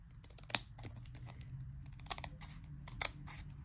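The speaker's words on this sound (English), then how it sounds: "I'm just going to take my scissors and try to trim some of the part where it's hanging over" Scissors snip through overhanging 12x12 craft paper at close range, a few sharp crisp cuts spread apart over a quiet background, with no talking.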